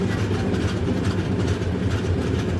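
Near and loud, a Varanasi–New Delhi Shivganga Express overtakes on a parallel track at speed, giving a continuous heavy rumble and rail roar.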